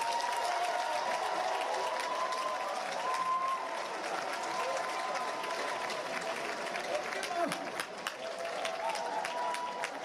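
A crowd applauds in a lively hall, with sustained clapping and cheering that rises and settles, mixed with scattered shouting voices and a few louder claps near the end.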